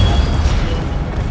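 An Incendio fire spell blasts in Hogwarts Legacy, a short, loud booming whoosh with a deep rumble that fades quickly.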